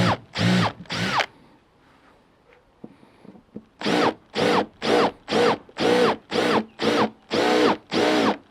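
A power drill steps up a hole to 9mm in an Engel car fridge lid, starting with two quick bursts, then after a quiet pause running in a rapid series of short, loud, evenly spaced pulses.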